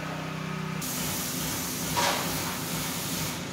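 Heat block coating sprays onto the metal walls of a warehouse building as a continuous close hiss, with a brief louder burst partway through and no speech.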